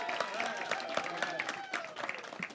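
A comedy club crowd applauds and cheers a comedian coming on stage, with steady clapping mixed with whoops and some shouting voices, fairly close and lively throughout.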